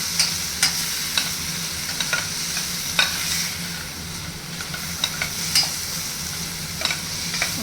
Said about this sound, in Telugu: ఈ విధంగా మిక్స్ చేయాలి.